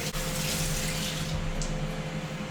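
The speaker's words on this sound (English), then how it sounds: "let me wash my hands real quick" Water runs steadily from a kitchen tap as hands are washed during cooking, a soft constant hiss over a low hum, with no talking.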